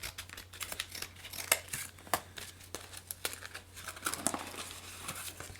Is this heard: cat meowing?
no